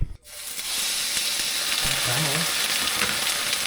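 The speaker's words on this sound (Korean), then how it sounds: "일단 김치를 조금 볶아줄게요." Chopped kimchi stir-frying in sesame oil in a pan, a steady loud sizzle that starts after a brief quiet moment and holds evenly throughout, close up.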